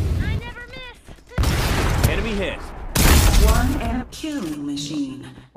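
Rhino weapon firing in the battle royale shooter Farlight 84, two dense bursts of loud gunfire separated by short gaps, with someone talking in between.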